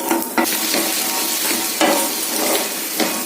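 Chopped brinjal sizzles loudly in hot oil while a utensil stirs and scrapes the pan in several sharp strokes.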